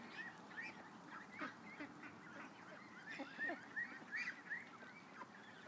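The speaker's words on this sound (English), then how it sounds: "that's why the ducks came over" Ducks quack and honk in scattered, overlapping calls, fairly faint and a little distant, with a low background murmur.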